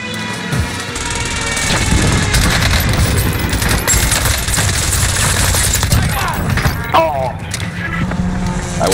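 Dense, continuous gunfire with booming blasts from an airstrike in a video game, loud and sustained throughout, with a voice talking over the combat.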